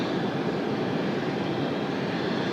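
An airliner's jet engine spools up at Raleigh-Durham airport, a steady broadband roar heard from a moderate distance without any voices.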